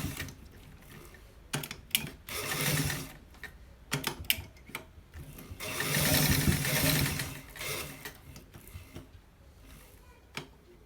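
Sewing machine stitching a front pocket on a garment, running in short bursts of rapid mechanical rattle with pauses between them, close and fairly loud.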